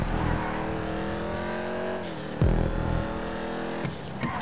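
A Dominator race car in the GTA V video game revs its engine with a steady tonal roar that dips and shifts pitch. A short tire squeal and skid cuts through partway, and the engine drone continues loud and close.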